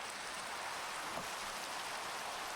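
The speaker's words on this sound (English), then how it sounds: "And it's raining." Steady rain pours down in a video game, a soft, even hiss of falling drops that holds constant throughout without any voices.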